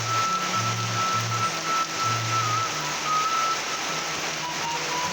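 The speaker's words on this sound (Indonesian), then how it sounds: "cukup besar hujannya" Heavy rain pours near the Curug Ciangin waterfall, a dense, constant hiss and roar of falling water. Several short, low electronic tones pulse on and off through the first half.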